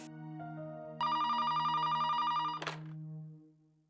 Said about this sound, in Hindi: बार बार फोन आ रहे हैं उनके।